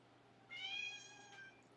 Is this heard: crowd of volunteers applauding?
no